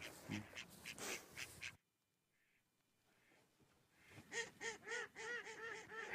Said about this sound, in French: il y a le bruit des canards